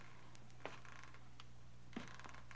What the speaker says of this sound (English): or was it just the creaking of the old house?